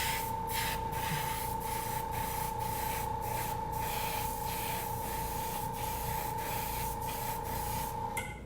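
An airbrush sprays paint onto a taxidermy bird's bill during restoration, a loud steady hiss with a constant whine and faint pulsing beneath it, running without pause.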